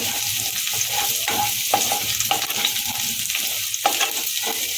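Steady sizzling of chili flakes frying in a pan, with repeated scraping strokes of a spoon stirring through it, close and continuous.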